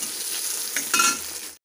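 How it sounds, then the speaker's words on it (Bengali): Whole spices tempering in hot oil in a pan for a pumpkin and amaranth-stem vegetable curry, a steady close sizzle that swells briefly before cutting off. "ফোড়নটা ভালো করে ভাজা হয়ে গেছে"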